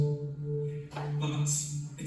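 Synthesised musical tones set off by breaking a Soundbeam 5 movement-sensor beam in an adaptive teaching setting, with sustained harmonic notes that shift into brighter, higher tones partway through, heard clearly with no talking.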